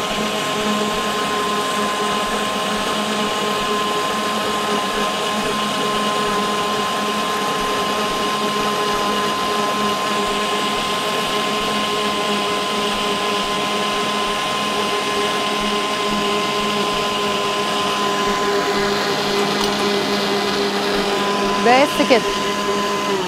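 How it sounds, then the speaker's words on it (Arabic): A kitchen blender runs at a steady, loud whirring hum as oil is drizzled in a thin stream into vanilla cake batter, with a brief voice near the end. "انا دلوقتي هشغل الخلاط فمش هتعرفوا تسمعوا مني قوي اللي انا عايزه اقوله."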